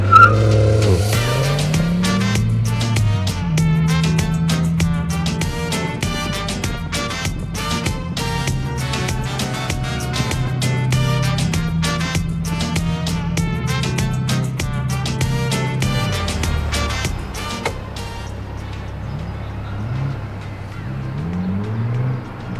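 A Ford Focus ST Mk2 drives hard with repeated tire squeals and skids, engine revving and rising through gears, loud and close throughout with brief pauses between bursts.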